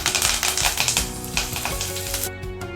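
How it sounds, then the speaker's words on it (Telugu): Curry leaves dropped into spluttering mustard seeds with cumin and asafoetida in hot oil, a dense crackling sizzle with rapid popping close up, easing toward the end, no talk. "ఆవాలు కొంచెం చిటపట్లాడిన తర్వాత దీనిలోకి ఒక రెమ్మ కరివేపాకు వేస్తున్నాను"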